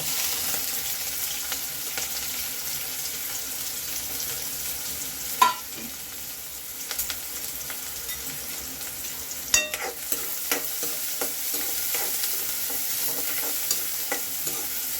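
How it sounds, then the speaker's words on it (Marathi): Finely chopped onion fries in hot oil with mustard seeds and cumin for Nagpur patwadi rassa, a steady close sizzle broken by occasional spoon clicks and scrapes as it is stirred. "आता बारीक चिरलेला कांदा,"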